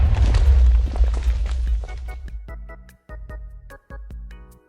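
Minecraft TNT blast: three TNT blocks set off with a button go off together as one loud booming explosion with a rumbling low tail, then fading debris and scattered clicks and game sounds as it dies away.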